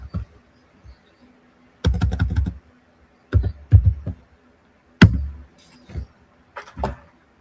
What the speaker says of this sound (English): So let me type it out.